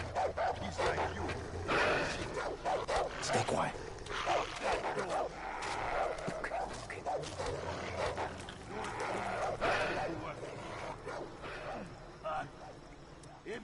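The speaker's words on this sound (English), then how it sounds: "What is that dog going off about?" A dog barks and yips repeatedly in Far Cry 3, in loud excited bursts throughout, mixed with a player's talk over the game sounds.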